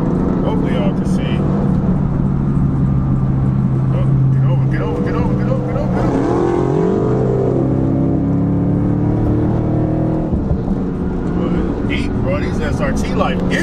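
Dodge Hellcat muscle cars rumble and rev at a crowded Houston street block party, a loud dense engine roar with rising and falling revs mixed with crowd noise and people talking nearby.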